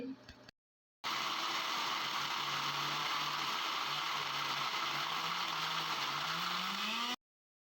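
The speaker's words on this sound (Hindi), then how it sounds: "अब मैं इसको फ्लफ़ी होने तक ग्राइंड करूँगी अच्छी तरह से।" A grinder blends ice for a mint margarita with a loud, continuous roar, running for about six seconds and rising in pitch toward the end as the ice turns fluffy, after a brief sound and a pause at the start.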